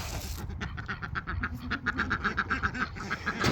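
Ducks quack repeatedly in a rapid, chattering series, several birds close by over a steady outdoor background on a farm, one with an injured beak.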